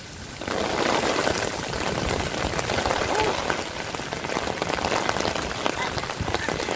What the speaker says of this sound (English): next thing you know, here it is, raining cats and dogs.